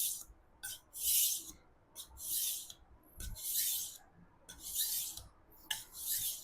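A knife is drawn across a wet whetstone in slow, even sharpening strokes, each a soft close hissing scrape, about eight strokes spaced roughly half a second to a second apart.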